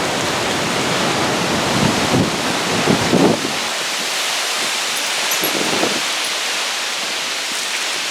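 Strong wind from an Alberta thunderstorm roars and buffets close by in a broad, rushing noise that swells and eases, with no voices.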